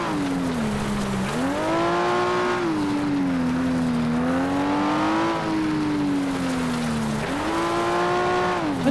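A race car engine in the FlatOut racing video game drones loudly and continuously, its pitch rising and falling with gear changes and throttle over about nine seconds, with no talking.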